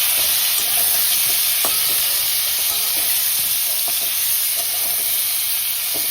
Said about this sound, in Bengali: এবার শুধু পটল ভাজা করব